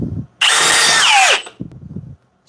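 Cordless drill running in drill mode at speed 2 on a fully charged 6 amp-hour battery, a loud sustained high whine lasting about a second and falling in pitch as it bogs down under load, with faint knocks and handling noise on either side.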